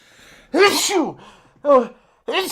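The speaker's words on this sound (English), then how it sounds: "Bit of a double sneeze attack." Two sneezes in quick succession, close and loud, followed by a short breathy burst.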